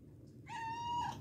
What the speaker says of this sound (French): Tu vas miauler